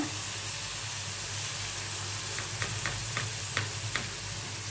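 Ginger paste frying in a pan of masala for a tomato and green chilli fish curry: a steady loud sizzle with a few light stirring ticks toward the end.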